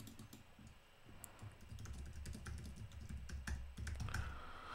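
Steady typing on a computer keyboard, a continuous patter of soft key clicks at an even pace, close up over a low background hum, with no voices.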